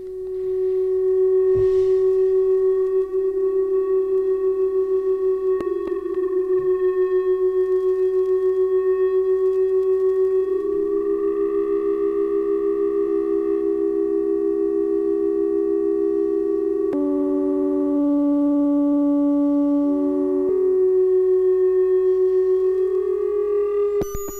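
Sustained modular synthesizer tones drone steadily while manually mixed pitches slowly shift and blend between layers, with a few faint clicks; electronic and continuous, no voices.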